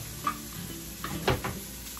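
Irish bangers, already oven-cooked, sizzle while being browned and turned in a frying pan for a full Irish breakfast, with a soft steady hiss under light clinks and scrapes of the pan.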